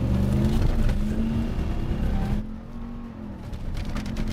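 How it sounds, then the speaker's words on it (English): A race truck engine revs hard at full throttle while held on the brakes for a launch, a loud sustained roar with steady harmonic drone that drops slightly in intensity partway through, no voices. "Apply full throttle, perfect RPM."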